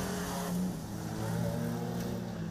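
Street stock race cars at Lismore Speedway roar past in a dense, continuous engine drone as the checkered flag falls, loud with shifting revs and no clear voices.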